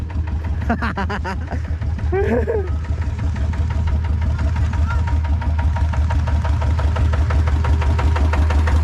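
A truck engine strains in first gear as it pushes through sandy soil on a farm field, a loud, close, heavy drone that holds steady throughout.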